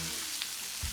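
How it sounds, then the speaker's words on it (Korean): Sanjeok skewers are stir-fried in a pan, giving a steady soft sizzle with a faint scrape of stirring, heard close and quiet. "산적인데 망쳐가지고 지금 다시 볶는 중."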